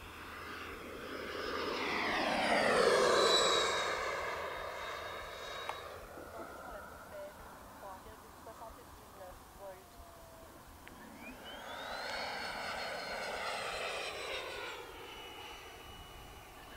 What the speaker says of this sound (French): One fast, left to right. Full throttle now.